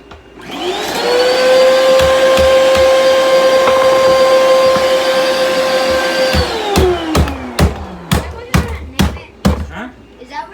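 Bissell vacuum cleaner running loud and steady at close range, its motor whine holding for several seconds before winding down, followed by a series of sharp knocks and clatters; people talk over it.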